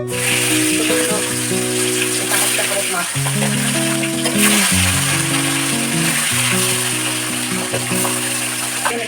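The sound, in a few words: food frying in a pan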